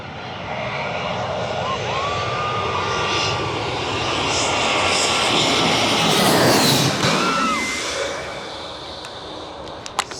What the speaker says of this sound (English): these planes are coming in really fast